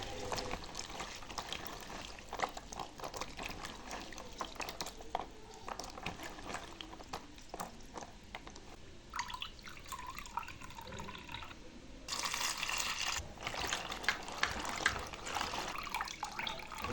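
Onion stalks being washed in water, with continuous running and splashing water, dripping and sloshing, close and steady, growing louder and brighter near the end; no talking.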